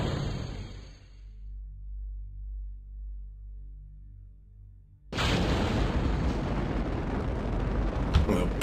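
Rocket engine firing in Kerbal Space Program, a sudden loud, dense roar that bursts in after a low rumbling lull and holds steady and close, with a sharp crackle near the end.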